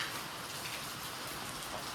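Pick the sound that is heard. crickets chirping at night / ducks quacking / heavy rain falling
heavy rain falling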